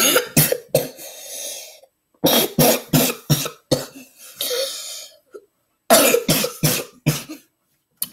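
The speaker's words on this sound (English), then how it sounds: "It hurts super bad to cough." Bursts of harsh, hacking coughs come in three clustered fits of several coughs each, close and loud, separated by short gaps of silence and breathing.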